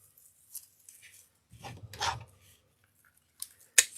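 Scissors snip the wire stems of craft picks from a Hobby Lobby bunch: a few quiet, close, separate cuts and rustles with silence between them.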